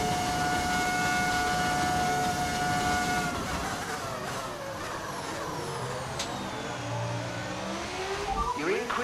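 A modded F1 25 racing car engine wails at high revs, its pitch sweeping up and down through gear changes, loud and continuous beside a voice talking.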